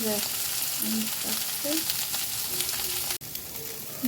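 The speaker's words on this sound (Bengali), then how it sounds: "ঠিক আছে, এটা ভেন্ডি দিয়ে ভাজবো, এই ডিম দিয়ে ভাজবো।" Okra (bhindi) frying in a pan for a masala dish gives a steady, close sizzle with a few stirring scrapes, briefly cut off near the end, with no talk over it.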